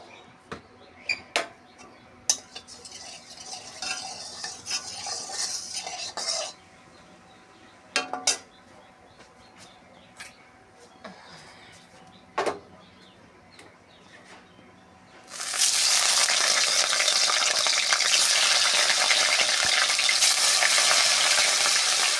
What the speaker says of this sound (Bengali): একটু তেলতে আমি মাছগুলো ভেজে নেব